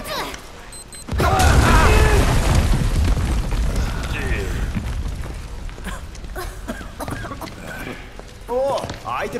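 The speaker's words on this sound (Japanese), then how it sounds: "じゃ、爆弾仕掛けるから離れて。" Bomb blast in the PS4 game Final Fantasy VII Remake: a sudden loud boom followed by a long rumbling roar and debris clatter, with a few short game voice lines after it.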